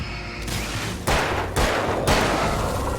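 Rifle fire in the video game Alan Wake: three sharp, loud gunshots about half a second apart, each a broadband crack with a lingering tail, over a dull background hum.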